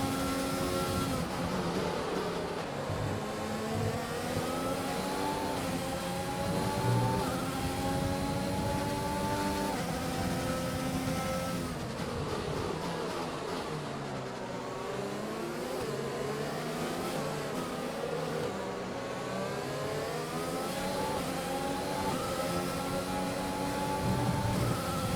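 F1 racing cars in an Australian GP video game race, their engines droning and rising in pitch as they accelerate, with several cars overlapping in a continuous, steady roar.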